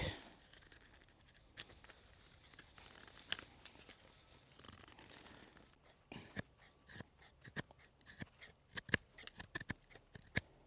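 Beavercraft Dusk BSH4 bushcraft knife carving away sections of wood, a series of close, sharp scraping and crunching cuts, sparse at first then quicker and louder toward the end, with no talk.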